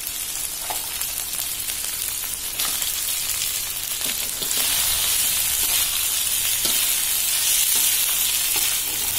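Teak caterpillars and pupae fry with spices in a pan, giving a steady, dense sizzle. Stirring is heard throughout, and the sound grows slightly louder partway through.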